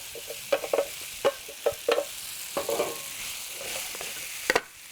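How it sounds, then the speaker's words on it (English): Japchae ingredients sizzle gently in a hot pan, with a soft continuous fry under a series of sharp clicks and scrapes from stirring, close and moderately quiet. "So you can hear it's gone from quite a violent fry to slowly sizzling away."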